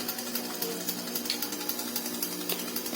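A vacuum pump runs on an aircon system during home repair service, evacuating the lines with a steady, continuous mechanical drone and a faint periodic rattle, loud and constant throughout with no talking.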